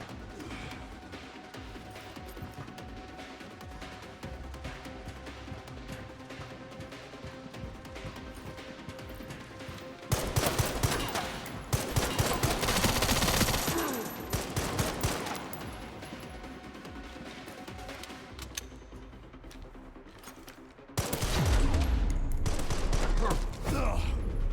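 Bursts of gunfire in Resident Evil 4 with Leon, loud clusters of shots and crashing impacts in two heavy stretches over steady game ambience, with a voice talking at times.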